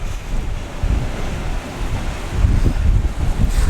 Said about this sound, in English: the waves are smashing into the bottom of that rocky slope